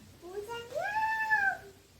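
A young child imitates a cat's meow in one drawn-out, rising and falling vocal mew lasting over a second, close and clear against a quiet room.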